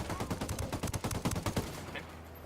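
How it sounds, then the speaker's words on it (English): Rapid bursts of video game gunfire from Ghost Recon Wildlands in a firefight, dense overlapping shots for about two seconds, then tapering off into quiet. "I'm opening fire on these shitheads."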